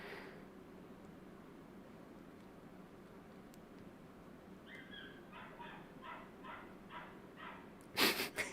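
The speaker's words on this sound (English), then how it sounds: "listen to a dog scream in the background" A dog yelps and cries in the background in a quick run of high, repeated whines that grow louder, ending in a sharp burst, over a faint low hum.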